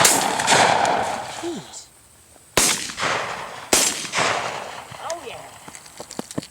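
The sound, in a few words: shotgun shots during a dove hunt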